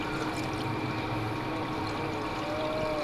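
Water pours steadily into a pool at a pool party, a continuous broadband splash and rush with no break, fairly close and alone without talk.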